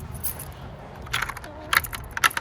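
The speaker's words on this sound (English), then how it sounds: "Drop the keys." Keys dropped on a quail farm give a few faint, short metallic jangles and clinks in quiet surroundings.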